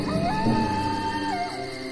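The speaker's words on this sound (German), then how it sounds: "Als es Nacht wurde, schallten die schrecklichen Schreie der wilden Tiere durch den Wald." Wild animals cry and wolves howl through a forest at night: a loud, sustained, wavering howl-like tone that rises and holds steady, with no talking.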